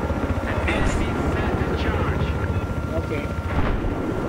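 Helicopter in the video game Battlefield 3 on the Caspian Border map, a loud steady rotor drone with rumbling low end, continuous and close, with scattered game noises on top.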